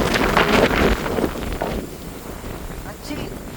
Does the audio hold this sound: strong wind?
yes